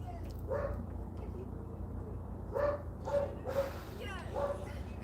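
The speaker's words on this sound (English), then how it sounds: "The dog's 40 years old. It won't stop barking." An elderly dog barks in short, faint bursts from a distance, a few yips spaced out over a low background rumble.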